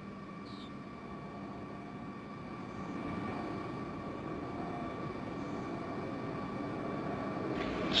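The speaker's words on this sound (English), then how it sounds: "there's a deferred camera view of the space shuttle Endeavour as it's coming in for a landing" Space shuttle Endeavour on final approach to the runway for landing, a steady broad roar with a faint whine that slowly swells louder over several seconds, heard from a distance with no voices.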